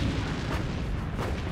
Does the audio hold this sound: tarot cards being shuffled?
no